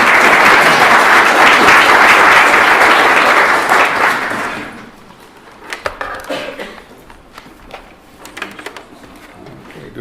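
An audience at a keynote talk on Ukrainian Canadian history applauds loudly and steadily for about four seconds to welcome the speaker, then the clapping thins to scattered claps and room noise.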